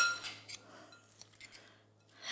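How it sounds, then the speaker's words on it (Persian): Onion, tomato and cucumber for a Shirazi salad being tossed in a bowl, with soft clinks and scrapes of a utensil against the dish, a few light taps spread across the clip and no talking. "حالا من این سالادم رو خوب مخلوط میکنم، پیاز و گوجه فرنگی و"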